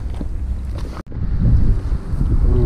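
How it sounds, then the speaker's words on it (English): Strong wind gusts buffet the microphone on an urban fishing outing in Sydney, a steady low roar with a brief lull before it rises harder again, with no one speaking. "Ooh, the wind's blowing up."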